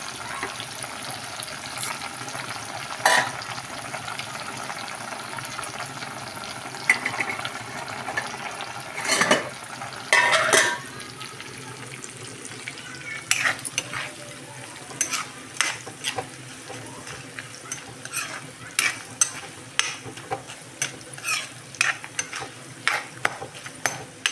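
Dried fish fries in a pan with chili powder and salt, a low steady sizzle marked by scattered spoon clinks and scrapes that grow more frequent later on.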